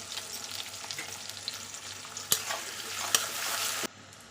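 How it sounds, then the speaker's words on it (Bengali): Green chillies stirred into frying onions in oil in a pan, a low steady sizzle with two sharp scraping knocks of a spoon against the pan, quiet and close before cutting off. "এবার একটু নেড়ে দেবো"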